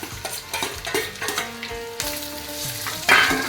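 Onion, ginger, garlic and green chilli sautéing in hot oil for a pearl spot fish curry, close bright sizzling with repeated stirring clinks and scrapes, a sharp burst of frying near the end, no talk.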